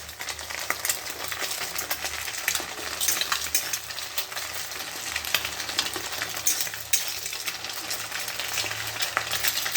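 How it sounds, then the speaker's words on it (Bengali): Two eggs scramble in a hot pan with onion, chilli and potato, sizzling steadily while a utensil scrapes and stirs in repeated clicks and scratches, close and continuous, no talking. "ডিমটাকে ঝুরঝুরে করে নিলাম"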